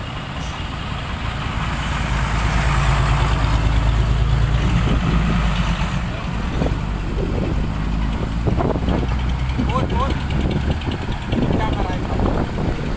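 A Mitsubishi Fuso truck engine idles with a loud, steady diesel rumble and low throb close by, while people talk over it in the later part, with some wind noise.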